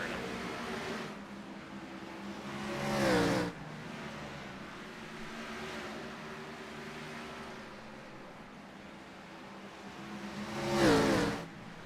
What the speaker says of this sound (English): listen to these engines roar